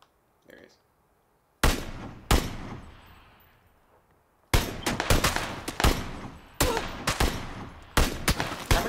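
Loud, sharp video game gunshots, single cracks and quick clusters starting after a near-silent opening, each with a short ringing tail, close and punchy.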